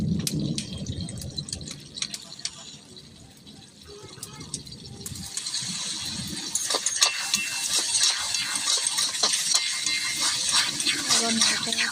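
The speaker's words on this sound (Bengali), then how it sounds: "নাড়াচাড়া করে জল দিয়ে সে মশলা কষানো যে জলটা ছিল সেটা দিয়ে দিলাম।" Water poured into a pan of spice masala for mutton curry bursts into a louder watery rush and hiss, with stirring scrapes and clinks throughout.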